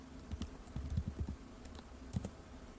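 Computer keyboard typing while entering a metric in a web analytics report, with several short bursts of keystrokes, quiet and close, with brief pauses between bursts and no talking.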